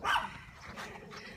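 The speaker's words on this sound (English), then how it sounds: "Excuse my dog in the background." A dog barks a few times in the background, one sharp bark followed by softer yips and whimpers, fairly distant and brief.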